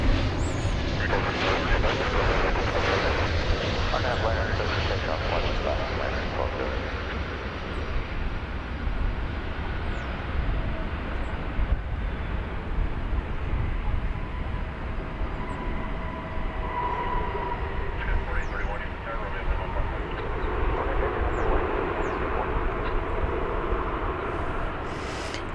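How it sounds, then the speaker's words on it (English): An American Airlines Airbus A321neo, flight 2811 from LAX, at Dallas/Fort Worth airport: a broad, sustained jet roar that slowly swells and fades, with talk over it. "American Flight 2811 and Airbus A321 Neo."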